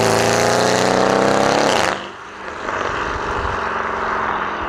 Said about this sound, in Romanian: avem downpipe și midpipe-ul schimbat, deci sună într-un mare fel mașina asta